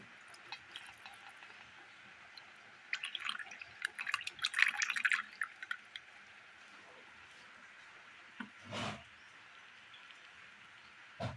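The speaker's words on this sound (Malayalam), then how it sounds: "ഒരു ബൗളിലേക്ക് ഒരരിപ്പ വെച്ച് കൊടുത്ത് ഉരുക്കി കൊണ്ടുവന്ന വെള്ളം ഒഴിച്ചു കൊടുത്ത് അരിച്ചെടുക്കാം." Melted jaggery water pouring through a strainer into a bowl, a soft patter of liquid that swells into a denser trickle in the middle and then fades, with a few faint drips near the end.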